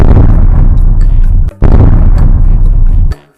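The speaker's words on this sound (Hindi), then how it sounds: "फिर बाद में वो वहाँ पटाखे जलाने लगा।" Firecrackers set off inside an underground wooden house in a cartoon comedy burst as a loud, dense, rumbling crackle that runs nearly continuously, breaks off briefly, then resumes before cutting out.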